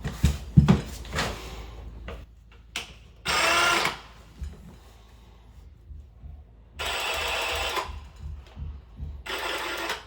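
Bursts of a power saw whirring through material in several separate runs during a toilet installation, with clattering handling noises and quiet gaps between cuts.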